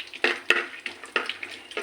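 Whole cumin, cloves, cinnamon pieces and cardamom fry in hot oil for a simple biryani, with a soft sizzle broken by several sharp stirring clinks and scrapes against the pot at an uneven rhythm.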